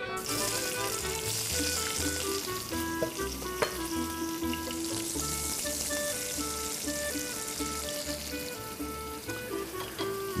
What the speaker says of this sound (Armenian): յուղը կդաղենք, սոխարածը կպատրաստենք